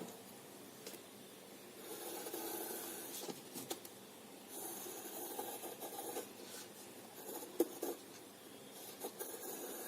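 A pencil scratches steadily on paper while tracing around a cardboard template, soft close rasping strokes in repeated bursts with short pauses.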